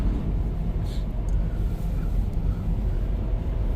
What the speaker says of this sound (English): this front wheel drive 2012 Camry is getting up through here